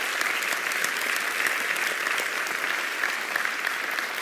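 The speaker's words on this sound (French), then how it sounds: "Alors si on peut l'applaudir, s'il vous plaît, ça serait juste merveilleux." A crowd applauding in memory of a spiritual master, with dense, even clapping sustained at a steady level throughout.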